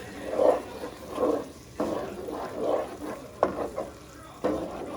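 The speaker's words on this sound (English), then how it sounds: "you're gonna add back the actual vegetables to the actual mix right there. And you just mix it all in." Vegetables stirred into a bubbling sauce in a pan for mango rice, rhythmic scraping swishes about every second over a soft sizzle, close by, with no talking.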